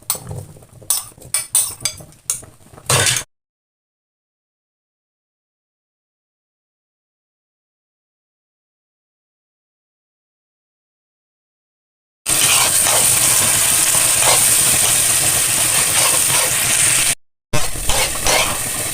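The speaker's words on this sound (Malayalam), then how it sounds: "ഇനി നമുക്ക് കഴുകി വൃത്തിയാക്കി വെച്ച ബ്ലൂബെറി നമുക്ക് ഇതിനകത്തേക്ക് ചേർത്ത് കൊടുക്കാം" Washed blueberries hit melted butter and ghee in a pan for blueberry payasam and sizzle with a bright, steady hiss. It runs for several seconds after a silent gap, with some earlier clinking of utensils.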